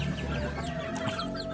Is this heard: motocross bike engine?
no